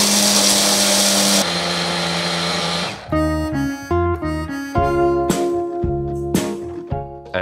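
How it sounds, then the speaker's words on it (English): A kitchen blender grinds a seeds mix for a blueberry and raspberry milkshake, first as a steady loud whir, then after a few seconds as a series of short stop-start pulses. Music plays underneath throughout, and no one speaks. "we grind the seeds mix."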